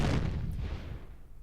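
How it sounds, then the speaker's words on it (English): A heavy explosion-like boom with a broad, rumbling low-end burst that decays over about a second and a half, loud and close. "that was apparently another explosion just for you, Sean."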